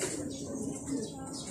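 Pigeons land nearby with a quick flurry of flapping wings and soft cooing, a short close burst over light outdoor background.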